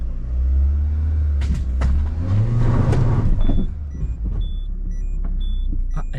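A Peugeot 307 recovered from a barn, its engine cranking and catching with a low rumble, then a thin, wavering squeal from the drive belt alongside short high tones and light clicks, close and loud, with no talk.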